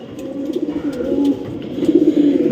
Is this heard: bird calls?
yes